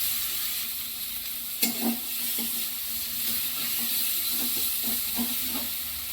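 Tomato, coriander, cumin and dried chilli paste frying in a pan for a Bengali katla fish kalia, a steady close sizzle and hiss broken by a few soft stirring knocks.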